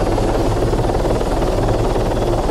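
A helicopter flying in the video game Arma 3 gives a continuous, loud rotor and engine drone with a steady pulsing beat that stays constant and close throughout.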